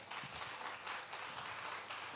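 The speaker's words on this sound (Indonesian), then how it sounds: "Mau beri tepuk tangan boleh saudara." Church congregation giving a round of applause during a sermon, a steady, fairly soft patter of many hands clapping with no talking over it.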